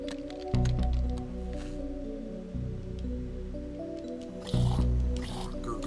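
Liquid gurgling in The Darkside Detective video game, a few wet squishy bursts over a low musical background.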